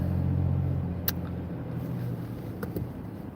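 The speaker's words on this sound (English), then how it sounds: "I'm just driving through my neighborhood" A car rolling through a residential neighborhood, heard from inside as a steady low engine and road rumble that eases slightly, with a couple of brief clicks and no talk.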